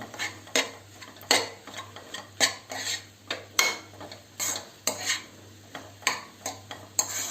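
A tomato egg fry being stirred in a pan, with a spoon giving sharp, regular scrapes and taps against the metal about once every half second, close and fairly quiet with no talk.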